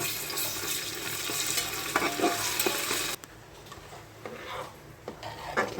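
Onions and green chillies fry in a pan for khichuri, giving a loud sizzle with stirring scrapes that drops to a softer, calmer frying hiss partway through.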